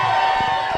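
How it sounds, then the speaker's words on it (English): A crowd at an amateur Friday night fight event keeps up a brief, loud, sustained cheer for a fighter, a dense wall of voices without pause. "Crowd seems to really love Richard. They were cheering his name."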